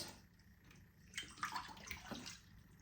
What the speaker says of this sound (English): Now I'm going to rinse that out